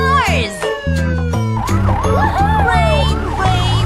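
Cartoon ambulance siren wailing in rising and falling sweeps over a bright children's song with steady sung notes, loud and close, with a few sharp hits at the start.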